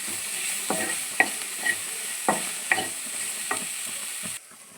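Sauce ingredients frying in a pan with coriander stems, a steady close sizzle broken by several short scraping stirs, then ending abruptly in quiet.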